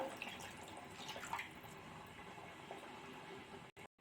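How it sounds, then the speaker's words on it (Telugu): A quiet, steady trickle and splash of water being poured into a pot of fish curry, continuing for several seconds before cutting off briefly at the end. "ఇప్పుడు తగినంత వాటర్ అయితే యాడ్ చేసేసుకుందాం"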